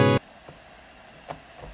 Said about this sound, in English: So first I'm gonna use this synthesizer.